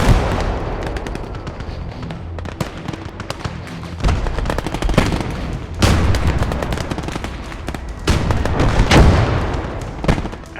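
Mortar blasts and crackling gunfire from a World War II multiplayer battle in Gates of Hell, sharp repeated shots and heavy booms scattered through a loud, constant din of combat, with no talking.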